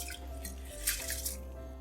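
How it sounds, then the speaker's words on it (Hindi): Soaked rice for biryani slides into a pot of warm water, giving soft, faint drips and wet squishing close by, with no talking. "अब इसमें हम ये चावल डाल देंगे।"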